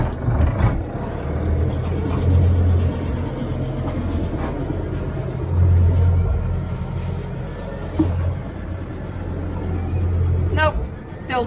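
A sailboat's engine runs steadily with a low, continuous drone throughout, mixed with light wind and boat noise, while people talk over it.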